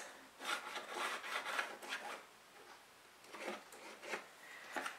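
Chalk or marker being drawn along a line on fabric, giving several soft rubbing strokes in short bursts, close and fairly quiet, with no talking.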